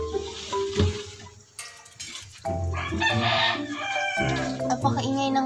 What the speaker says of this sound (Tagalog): Napakaingay ng manok.